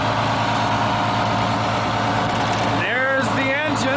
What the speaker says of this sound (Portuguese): there's the engine. Denver Motors diesel, which became Detroit diesel